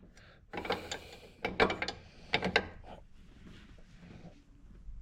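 Metallic ratcheting clicks and tool handling while bolts are tightened on a new brake wheel cylinder of a Dodge Durango, in short bursts of clattering mechanism sounds close by.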